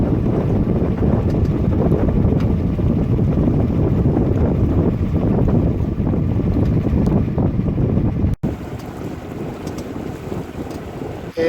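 A sailboat motoring under engine into a headwind beneath the Île de Ré bridge near La Rochelle, with steady loud broadband wind and water rush blowing on the microphone and a short dropout near the end.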